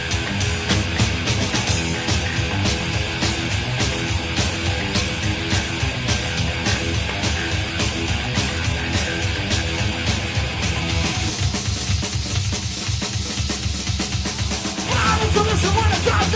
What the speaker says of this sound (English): The number 1 metal album of 1987, as voted by you, viewers of Banger TV. Sounds like this.